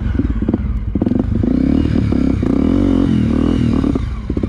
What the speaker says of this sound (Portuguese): Vou chegar com a moto faiando.